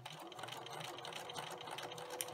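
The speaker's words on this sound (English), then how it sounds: "continue to stitch" A sewing machine stitches a fabric candy-corn banner, a faint, steady whirring hum that runs quietly throughout.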